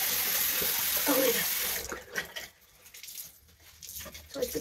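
Tap water runs into a sink to rinse soap away, a steady broadband rush that thins out partway through, leaving quieter splashing with voices talking over it.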